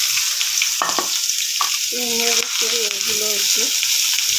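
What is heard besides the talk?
onion and garlic frying in a pan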